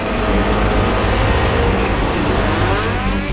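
Subaru rallycross race cars launch off the start line together, a dense, loud roar of engines revving hard and pulling away in one sustained burst without talk.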